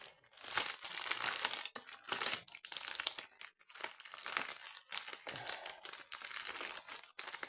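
Crinkly plastic packaging from a Temu parcel being opened by hand, with irregular close rustles and crackles over several seconds.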